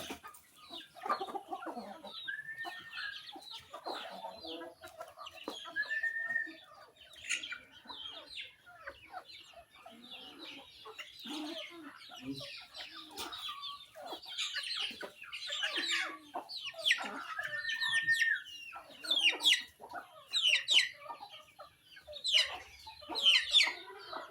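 A flock of chickens clucks and chatters busily while being fed, with steady overlapping calls and occasional louder squawks, close by.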